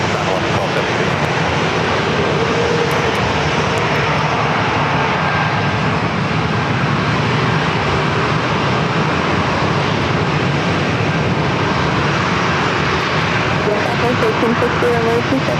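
A Southwest airliner's engines roar as it takes off from runway 27 at San Diego airport, a loud sustained broadband rumble throughout, with radio voices faintly mixed in.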